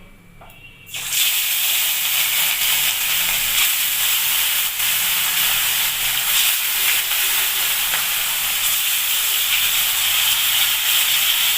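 Katla fish frying in mustard oil in a very hot pan on a strong gas flame, a loud, steady, close sizzling hiss that bursts in suddenly after a second and holds evenly to the end, with no talk.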